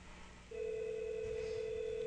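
A telephone ringback tone on an Asterisk-based hotel phone system starts after a brief quiet moment and holds as a steady, faint electronic tone to the end.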